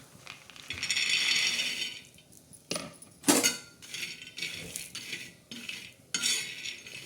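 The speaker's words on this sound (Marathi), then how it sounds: "तर आता आपण शेंगदाणे भाजूया" Peanuts are stirred and roasted in a pan at home, giving scraping, rattling clatter in uneven bursts with quiet gaps, close and fairly soft, and no talking.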